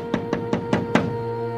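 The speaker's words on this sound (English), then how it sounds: "While we were gone, two suspicious-looking men knocked at the door." Five evenly spaced knocks strike a door, sharp and close, followed by quiet room tone.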